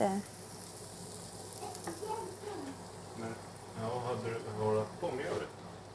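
Salmon sizzles in a hot pan as whipping cream is poured in for a Swedish fish gratin with shrimp, a steady frying hiss with stirring scrapes running under a voice throughout.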